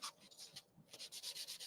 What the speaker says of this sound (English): we're just going to sand that down until it's flat